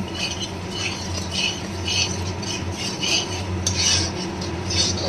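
Spice paste for prawn malai curry sautéing in a pan, with a steady low sizzle and repeated scraping stirs of a spoon against the pan, close and continuous.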